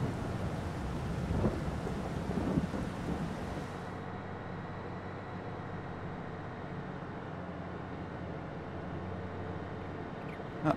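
Rain and thunder in the farming video game Farming Simulator 22, a low rumbling storm with steady rainfall that thins out partway through, leaving a quieter wash of ambient noise.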